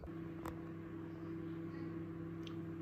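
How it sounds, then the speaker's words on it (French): A microwave oven runs while cooking a risotto with lardons, giving a steady, moderately quiet hum with a constant electrical drone and no speech over it. "Et placer le tout à nouveau au micro-ondes en cuisson pour 2 minutes."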